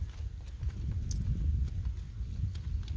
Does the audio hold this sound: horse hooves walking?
yes